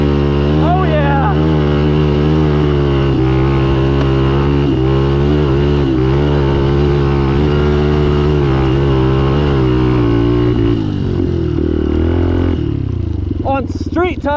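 A Benelli TNT 135 motorcycle ridden off-road on street tires, its small engine droning loud and close with steady harmonics that rise and fall with throttle, rattling over rough ground throughout.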